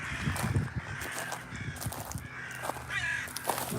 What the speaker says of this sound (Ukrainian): Тут в цьому місці багато ворон, щось вони нервничають, може у них тут гнізда десь.